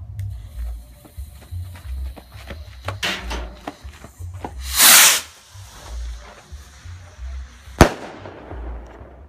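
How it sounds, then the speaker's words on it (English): A World Class Smiling From Ear to Ear firework rocket launches with a sharp hissing whoosh, bursts in a loud crackling rush mid-flight, then gives a single sharp report near the end, heard outdoors amid background noise. "here's the rocket by world class smiley face rocket"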